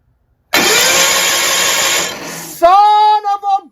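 A Toro 616Z zero-turn lawnmower's rare vertical-shaft Onan P216G engine cranks loudly for about two seconds, catches and starts, then revs up into a strong running note with brief throttle dips.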